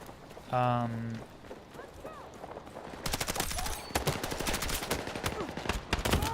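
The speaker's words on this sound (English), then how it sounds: "I gotta get a bigger mag on this gun" Rapid bursts of automatic gunfire from a gun in a video game rattle through the second half, loud and repeated over background game sounds and voices talking.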